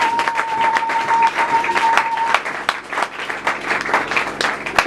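A church congregation at an evening gospel event breaks into sustained applause. The clapping is dense and steady, with a few cheers mixed in and a held tone running beneath it for the first half.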